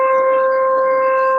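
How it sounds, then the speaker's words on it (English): A siren wails steadily in the background of a video call, a sustained tonal whine held at an even level throughout, sounding thin and somewhat distant. "It's the siren"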